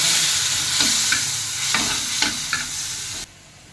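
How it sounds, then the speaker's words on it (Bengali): Onion and garlic fry in a pan for a fish curry, with a loud, close sizzle and several spatula scrapes that drop to quiet near the end. "সেই ঝুড়ো মাছের ঝাল করবো, তাতে তো এরকম পেঁয়াজ রসুনটা ভাজা হয়ে যাচ্ছে"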